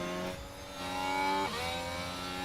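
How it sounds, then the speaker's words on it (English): A video game race car engine whines steadily with a sustained mechanical drone that shifts pitch briefly partway through, fairly faint and without speech, in a Las Vegas race. "My car sounds so different."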